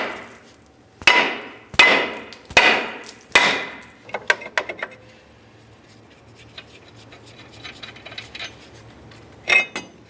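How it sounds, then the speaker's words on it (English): A hammer bangs a brake rotor on a 2006-10 Ford Explorer to break it free, four sharp ringing metallic strikes in a steady rhythm, then lighter clinks and rattles, with one more knock near the end. "Now let's use our hammer, give this a bonk to break it free."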